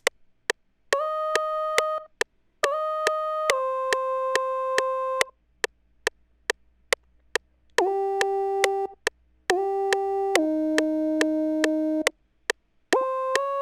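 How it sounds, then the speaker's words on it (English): A sine-wave lead synth in FL Studio, part of a jazzy pluggnb melody, plays a basic repetitive pattern of clean, pure tones in short held phrases, with sharp clicks between notes and no voices. "this sine lead, and it's just playing a very basic and repetitive pattern"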